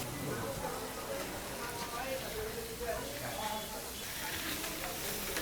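Baim fish (eel) frying in hot oil gives a steady, even sizzle throughout, with voices talking over it.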